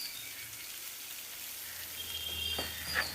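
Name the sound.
crushed chili powder frying with sautéed onions in oil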